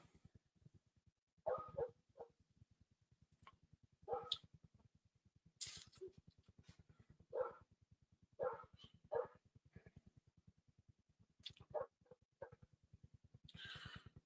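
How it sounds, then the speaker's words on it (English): A neighbor's dog barks in repeated bursts across the stretch, fairly close and loud, with a steady low hum running underneath and no talking. "Yes, and you probably hear a dog barking."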